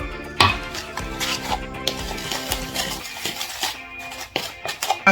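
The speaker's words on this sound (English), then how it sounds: "I'm trying to get rid of all the lumps from the baking soda, and if there are any lumps in the sugar" Brown sugar and baking soda are stirred together in a small dish, and a spoon clinks and taps repeatedly against it in uneven bursts, close and fairly loud, with no talking.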